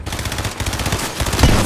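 Rapid automatic fire from a red dot assault rifle in Fortnite, a steady close burst of shots repeating through the whole stretch and ending in a louder crack.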